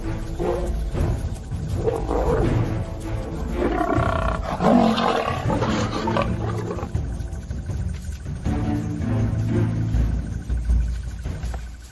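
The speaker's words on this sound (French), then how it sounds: "Elles tombent nez à nez avec le premier lion." Lions roaring in the wild as a nomadic male confronts females: several deep, rumbling roars and growls overlap and swell, loud and close, continuing for about twelve seconds without talk.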